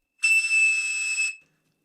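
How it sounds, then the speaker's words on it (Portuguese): A single steady high-pitched signalling tone like the 2600 Hz telephone trunk signal, the pitch once matched by a Cap'n Crunch cereal toy whistle, sounds loud and alone for about a second before cutting off into silence. "Para imitar o tom de 2600 Hz, algumas pessoas chegavam a usar um apito de brinquedo de uma caixa de cereal Cap'n Crunch"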